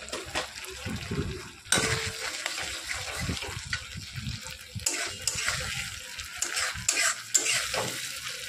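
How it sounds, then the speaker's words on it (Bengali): Chopped tomato stirred in a hot pan for a prawn and potato curry, with steady spatula scraping and clatter over a continuous frying sizzle, close and fairly loud throughout. "টমেটোটা দিয়ে কিছুক্ষণ নাড়াচাড়া করার পর আমি মশলাটা দিয়ে দেবো"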